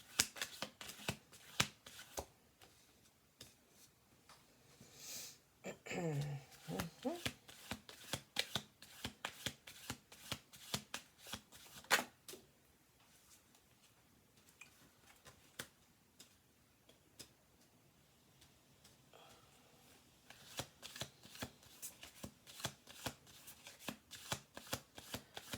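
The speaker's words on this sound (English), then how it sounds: "Alright, one more shuffle." Shuffling a deck of playing cards: a long run of crisp riffles and flutters in quick bursts, close and clear, with short pauses between shuffles and no voices over it.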